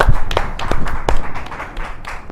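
A studio audience on a TV show claps for the Teen Nation kids in a short burst of loud, uneven claps, close and crisp, with no speech on top.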